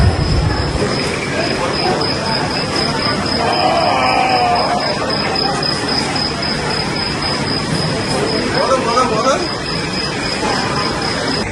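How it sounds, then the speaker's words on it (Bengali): Duronto Express train pulling into Puri station, a steady loud rumble of rolling railcars with wheels squealing on the rails and a sustained high whine, voices murmuring faintly underneath throughout. "একদম রাইট টাইম, 4:05 বাজে ট্রেন ঢুকলো পুরী স্টেশনে।"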